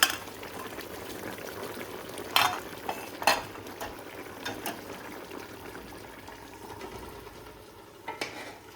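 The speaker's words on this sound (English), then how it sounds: "All the vegetables just simmering away." Quiet bubbling of vegetables simmering in a pot for Indian restaurant-style base gravy, soft continuous burble with a few sharp clinks of utensil on metal scattered through.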